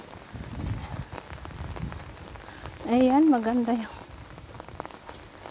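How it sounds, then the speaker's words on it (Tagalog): Rain falling and growing heavier outdoors on a street with passing scooters, a steady patter on surfaces throughout, with a person speaking briefly over it and a short melodic vocal sound in the middle. "lumalakas yung ulan ba."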